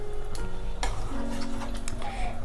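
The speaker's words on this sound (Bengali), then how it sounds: "ভালোভাবে এবার মিশিয়ে নিচ্ছি লবণটা।" Salt being stirred into a thin Bengali fish curry broth in a pot, a spoon scraping and ticking against the metal in an uneven rhythm under a steady low simmering hiss, no talking.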